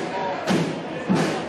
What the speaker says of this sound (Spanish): Nayadete, el disparo, toca en una futbolista de la barrera y va a haber córner